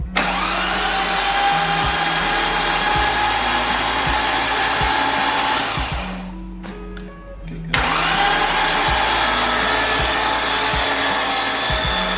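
Fuel pump on an RB25-powered R33 Skyline buzzing as it primes, heard under a loud steady whir of an already-running engine and tool noise, with a brief quieter gap of whining hum in the middle.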